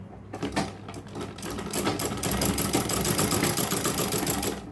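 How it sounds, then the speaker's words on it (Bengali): A sewing machine runs steadily and close by, topstitching lace onto a pair of pajamas with a dense, continuous mechanical whir that builds slightly in loudness partway through. "এখন আমাকে এটা উপরে চাপ সেলাইটা দিয়ে নিতে হবে"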